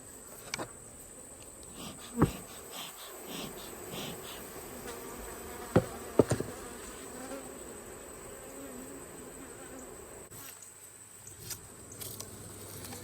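Honeybees buzz faintly around an opened hive box, a soft continuous hum broken by a few sharp knocks and clicks of handling nearby.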